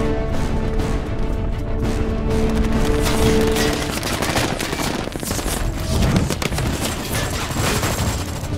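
Dense gunfire in a film battle scene from Captain America: The Winter Soldier, a loud sustained barrage of rapid overlapping shots and impacts mixed with score and effects, with no pauses.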